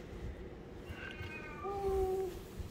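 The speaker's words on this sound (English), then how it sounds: "There's the kitty cat." A cat indoors gives a couple of faint, drawn-out meows, the second longer and clearer, over a low background hum.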